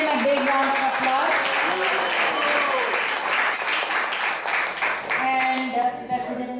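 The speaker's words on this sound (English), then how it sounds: "Let's give him a big round of applause." An audience at an ISKCON temple gathering in Atlanta claps in sustained applause, mixed with voices throughout, and the clapping thins out toward the end.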